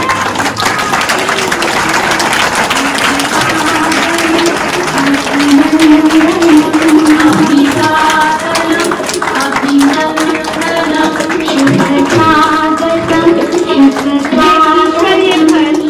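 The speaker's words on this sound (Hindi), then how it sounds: "तालियों की आवाज कम ना हो।" Audience applause in a hall at a Brahma Kumaris annual day celebration, steady clapping under music with sustained tones, continuous and fairly loud for the whole stretch.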